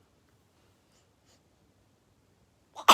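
A single abrupt sneeze bursts out near the end after almost total silence, short, loud and close.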